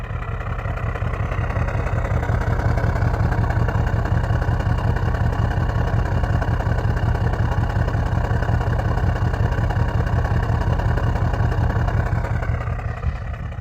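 A 2018 Audi S6 with a 4.0T V8 idles with a deep, steady burble, close and unchanging for the whole stretch with a fast low pulse and no talk over it.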